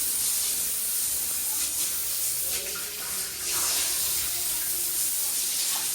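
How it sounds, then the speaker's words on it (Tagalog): Water blasts from a tap under strong pressure, a loud continuous hissing spray that holds steady with only a brief dip. "pakalakas ng pressure ng tubig nila"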